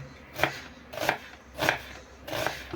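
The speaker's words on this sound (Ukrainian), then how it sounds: "Нарізаємо нашу цибульку на півкольці" Knife chopping onion into half rings on a board, four distinct, evenly spaced cuts with a short pause between each, close and clear with no talking.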